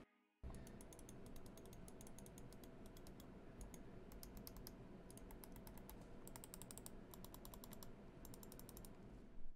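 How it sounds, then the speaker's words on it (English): Buttons on a Thermaltake Ventus Z RGB gaming mouse clicked in quick runs: crisp, light clicks in bursts over a steady background hiss, faint and close, with no voice. "Here's a quick sound test for you guys of all the buttons on the Ventus Z."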